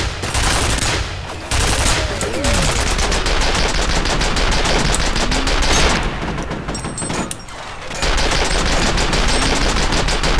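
Enemy gunfire in the shooter game F.E.A.R. rattles almost without pause, dense automatic bursts and shots layered with game effects, loud and close throughout, with no speech.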